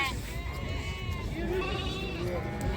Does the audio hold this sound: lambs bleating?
yes